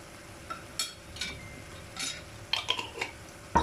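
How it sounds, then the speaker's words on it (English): Garlic and fine salt stirred in a pan: a series of light scrapes and clinks of a utensil against the pan, irregular and close, over a faint background hum. "Just going to give this a mix"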